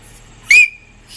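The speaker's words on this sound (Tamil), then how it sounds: "எப்படி விசில் அடிப்பா அங்க போய்?" A single short whistle, rising then held as a steady tone for about a third of a second, close and clear against a quiet room with no talk.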